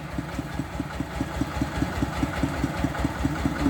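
A homemade prototype small vehicle's engine idles close by with a rapid, even putter and a knocking pulse, steady and fairly loud throughout.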